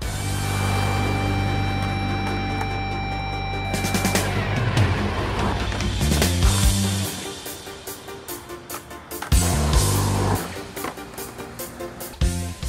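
Skateboard rolling down a ramp at a transition skate spot, a steady wheel roar broken by sharp clacks and thuds from the ollie and landings, with quieter rolling between impacts.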